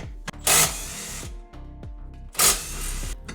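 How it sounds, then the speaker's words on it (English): An impact gun rattling off the two 12mm bolts holding down the rear sway bar on a 2018 Subaru Forester, with two loud hammering bursts over a steady mechanical hum, close up and without talk. "So I'm going to use my impact gun here"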